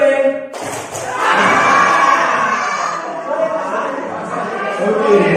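Classroom of high school students clapping together during a concentration game, a dense burst of loud crowd noise with shouts and cheering mixed in, sustained throughout.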